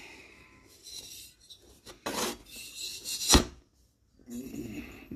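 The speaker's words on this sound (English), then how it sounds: "I'll be doing a slight fine grit lapping once again." A Royal Enfield engine part gets fine grit lapping, a close scraping rasp in short uneven strokes with a sharp knock partway through and quiet pauses between bursts.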